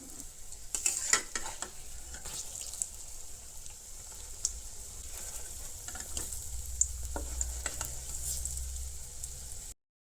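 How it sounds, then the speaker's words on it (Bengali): Lentil fritters (bora) fry in hot oil with a steady, faint sizzle and occasional spatters and stirring clicks, heard alone without talk for about ten seconds. "বড়াগুলো ভাজা হচ্ছে"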